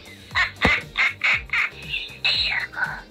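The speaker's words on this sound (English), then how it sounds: "But he does make noise. There's a little button right down here in his foot" Babu Frik plush toy from Target speaking via a button in its foot: a string of short, squawky chirping bursts in a rapid, jittery rhythm, close and fairly loud, like a tiny creature's garbled babble.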